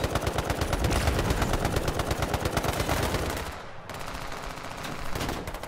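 Dense automatic gunfire in the battle royale video game H1Z1, loud and continuous rapid bursts filling the clip with barely a pause, close and overwhelming with no talking over it.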